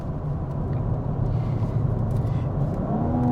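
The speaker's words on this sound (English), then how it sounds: "this engine is so incredible. It just wants to pull and pull and pull." The six-cylinder engine of a 2022 BMW M4 Competition Convertible pulls steadily with a deep, continuous rumble that rises slightly in pitch as it accelerates, heard from inside the car with no talk.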